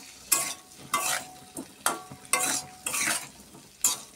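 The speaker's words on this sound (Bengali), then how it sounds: "একটু ভাজা ভাজা হবে, তারপরে জল দেব।" Tomato, salt and spices frying in oil in a pan are stirred in a rhythm of about eight scraping strokes, each lifting a soft sizzle, close by and without talk.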